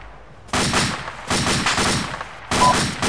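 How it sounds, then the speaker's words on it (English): Bursts of rapid automatic gunfire in a video game, three loud close volleys separated by short pauses, with no voices. "Just shoot him! Shoot him, James!"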